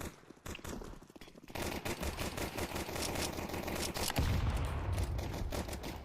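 Rapid Glock pistol shots crackle through a shooter video game, arriving as quick bursts of sharp reports that grow denser and louder toward the end, with other game noise underneath.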